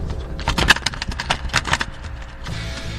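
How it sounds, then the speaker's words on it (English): Cassette tape deck eject mechanism clunking open, a close, rough burst of rattling mechanical clicks and clatter over about two seconds before settling into a faint hum. "Does your cassette mechanism make a terrible sound like this when you open it?"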